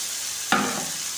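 Chickpea curry masala being stirred in a hot pan, a brief onset of sizzling and scraping that rises at once and then settles into a steady fry hiss, with no voices.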